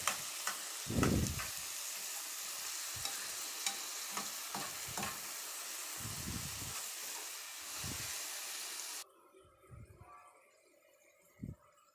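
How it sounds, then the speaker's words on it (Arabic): Tomatoes with meat and vegetables sizzle in a frying pan while a spoon stirs them in repeated scraping bursts, the frying hiss dropping off sharply near the end as a few last stirs follow. "بعد كده هنحط الطماطم ونقلبهم مع بعض."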